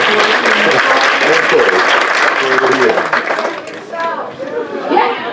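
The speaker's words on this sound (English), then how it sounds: "Let's give Dawn a good round of applause" An audience at a Black History celebration gives a dense, steady round of applause for an honoree, with voices talking and calling out over the clapping throughout.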